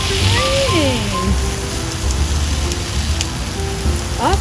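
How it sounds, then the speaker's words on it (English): Steady rain falls outdoors, a constant broadband hiss filling the whole clip while a voice talks over it in a sing-song manner. "Oh my, it's raining."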